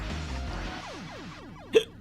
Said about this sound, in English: I am not able to get rid of said hiccups